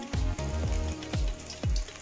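Cauliflower florets deep-fry in oil for Manchurian, a soft bubbling sizzle underneath while several heavy knocks and scrapes of a utensil against the pan ring out, close and uneven, without speech.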